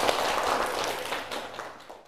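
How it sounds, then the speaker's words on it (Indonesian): A class of 8B students applauds together in a classroom, a dense wash of clapping that starts strong and gradually thins out over about two seconds, fairly close and without talk. "Tepuk tangan buat 8B ya."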